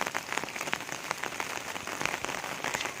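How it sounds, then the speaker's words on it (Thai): Steady, fine patter of daylong rain falls on roofs and ground in a rural Thai village. The soft, continuous hiss is flecked with small drops, at a low, even level with no voices. "ตอนนี้ก็คือฝนก็ยังตกอยู่ตกทั้งวันตกได้ตกดีนะคะ"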